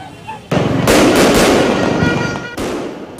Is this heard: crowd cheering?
no